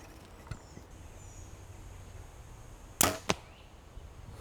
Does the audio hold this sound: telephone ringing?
no